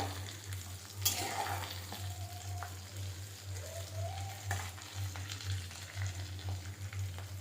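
Crispy potato rolls deep-frying in hot oil, a steady close crackling sizzle throughout with occasional louder pops, heard alone without talk.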